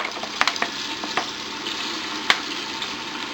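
Onions fry in a pan with fish sauce, crackling and sizzling steadily up close, with a few sharp pops and stirring clicks.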